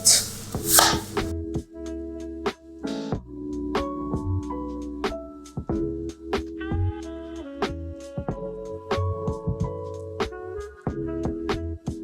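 Firm apples are cut into eighths with a knife on a board, producing a series of crisp, irregular chops and taps, close and fairly loud, with background music underneath and no talk.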